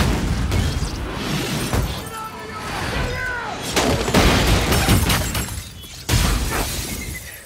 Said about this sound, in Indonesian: Beruntung, ledakan bom itu tidak membuat Max terluka